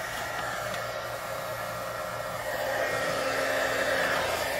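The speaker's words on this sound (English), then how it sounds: "so that way you don't have to hear the heat tool" An embossing heat tool blows hot air in a steady, loud whooshing hiss with a low motor hum, continuous throughout and growing slightly stronger toward the end.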